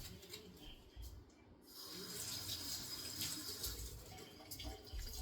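Water runs and splashes over a chipped granite benchtop being repaired, a soft hiss that builds and stays steady after a brief pause.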